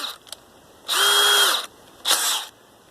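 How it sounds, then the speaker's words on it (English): A power drill driving screws into house siding whirs twice in short bursts, the first about half a second and the second briefer, close and loud with quiet between. "Now it's time for the drill."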